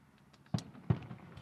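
Fourth of July fireworks go off in the distance, two sharp pops about a third of a second apart over a quiet outdoor background.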